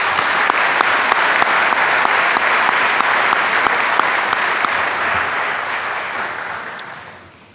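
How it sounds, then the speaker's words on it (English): An audience at the 2016 Canadian Motorsport Hall of Fame induction ceremony claps for former inductees, a loud, sustained burst of many hands that fades out near the end. "Can we have a nice round of applause?"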